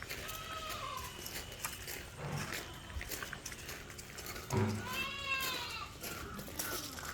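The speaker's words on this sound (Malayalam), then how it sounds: "ഇതിലൊരു ആട് അതിൻ്റെ ഒരു മുട്ടൻകുട്ടി ഒരു പടക്കുട്ടി" Several goats, nannies and kids, bleat in short wavering calls, some near and some farther off, over a steady outdoor background at a livestock sale.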